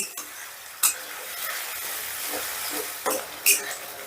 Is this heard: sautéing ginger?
yes